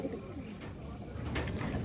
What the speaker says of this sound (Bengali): এই কবুতরগুলো যেহেতু এইমাত্র ছেড়ে দিয়েছি তাই মনের আনন্দেরা ঘোরাঘুরি করছে